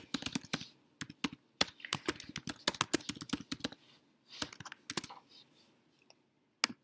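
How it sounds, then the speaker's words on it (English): Fingers type on a computer keyboard in quick bursts of crisp, close key clicks, pausing briefly midway and trailing off to a few isolated taps. "and then we'll just type"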